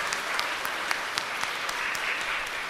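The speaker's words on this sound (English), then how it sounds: "Give thanks and praise to our Heavenly Father by a round of applause, everyone" Congregation applauding inside a parish church during a feast day Mass, a steady wash of many hands clapping at moderate level with no voices over it.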